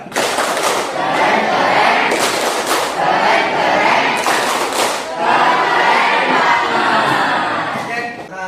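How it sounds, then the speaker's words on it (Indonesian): A classroom group of teachers or students claps and cheers in unison for presenters, producing a loud, dense burst of clapping with rhythmic thumps and voices that lasts throughout. "Berikan tepuk keren buat kelompok 1."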